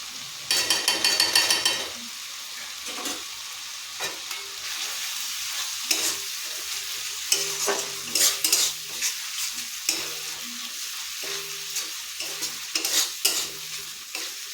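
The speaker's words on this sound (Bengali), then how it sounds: "এটি একটু নাড়তে থাকবো" Spices sizzle and fry in a hot pan while a utensil stirs and scrapes in uneven strokes, close and steady with no voices.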